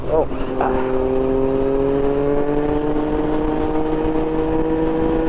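A 2024 Triumph Street Triple 765 RS with a Racefit exhaust drones loudly at highway speed, its engine note climbing steadily under heavy wind rush.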